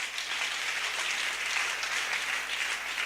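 Dense, even applause from a congregation during a church service, many hands clapping at once in a continuous wash of sound with no voices on top.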